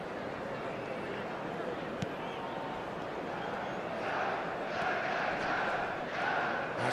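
A football match crowd keeps up a continuous, distant roar of cheering that swells toward the end, under a commentator talking.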